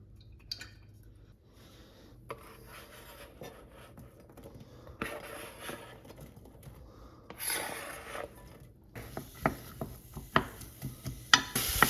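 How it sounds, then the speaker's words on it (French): An onion and a garlic clove being chopped into pieces, irregular close knife taps and scraping on a board that grow busier and louder toward the end, with no talk. "hacher un oignon en morceaux et une gousse d'ail"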